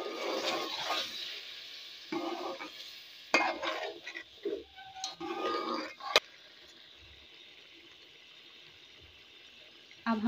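Yogurt being stirred into frying chicken in a pot for chicken handi, with bursts of wet scraping and sloshing broken by a sharp clank, then a quiet low hiss.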